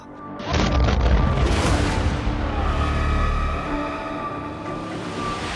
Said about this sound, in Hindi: एक धमाका और पूरा इलाका बारूदी कोहराम से दहल उठा।